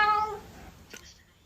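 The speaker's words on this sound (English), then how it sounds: "Do you wish to go and let the cat out? He's just being annoying" A house cat gives one short, bright meow up close right at the start, then fades into a quiet room with a faint click.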